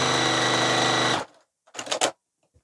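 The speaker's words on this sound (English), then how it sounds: "So now we're going to turn it around, and we're going to sew the other side on." A sewing machine stitches fabric in a fast, steady whir for about a second, stops abruptly, and a few soft handling noises follow.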